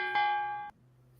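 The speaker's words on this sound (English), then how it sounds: "the boxing bell" A single struck bell, like a boxing ring bell, rings out once, loud and close, with a bright metallic tone that holds steady and then cuts off sharply.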